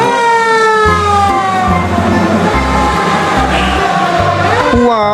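Toy fire truck siren wailing loudly and continuously, with a pulsing low electronic beat stepping underneath throughout, close and alone without speech.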